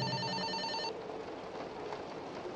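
A phone rings inside the horror video game Fobia: St. Dinfna Hotel, a tonal electronic ring for under a second that cuts off, leaving quiet ambient noise.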